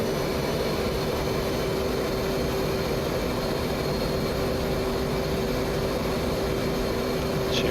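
Steady, loud jet engine roar of an F/A-18 in the DCS flight simulator, a continuous broadband rush with a constant whine as throttle is pushed up.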